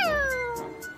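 A cartoon cat gives a single drawn-out meow, loud and close, its pitch sliding slowly downward as it fades over about a second.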